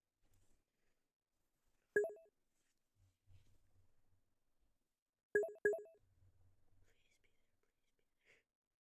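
A phone ringtone sounds twice when a call is placed, each a short bright double chirp separated by quiet gaps, with soft murmuring voices between rings.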